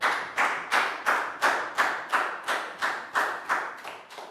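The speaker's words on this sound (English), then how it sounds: "Big round of applause for Prel." A classroom group claps in unison for a student during a science lesson, making about a dozen evenly spaced, sharp rhythmic claps, each with a short ringing tail, loud and close with no talking.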